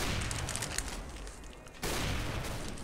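Rapid bursts of video game gunfire fill the clip loud and close, with a brief drop in the middle before the shooting resumes.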